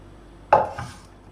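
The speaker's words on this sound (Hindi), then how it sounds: "तो अब हम इस बाउल में डालेंगे ताकि हम इसे ठंडा होने के लिए रख सकें" A utensil scrapes and clinks against a pot while cooked milk dessert is transferred into a bowl, one sharp metallic knock followed by a softer scrape, brief and close, with no talking.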